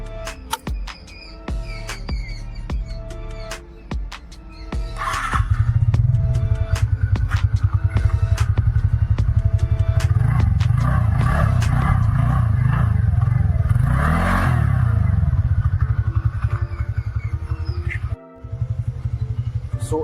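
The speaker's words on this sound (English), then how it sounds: "So exhaust note is slightly on a bassier side." A TVS NTORQ 125 scooter engine revs up and holds a deep, bassy exhaust drone close by, with clattering mechanical noise and a brief dip near the end.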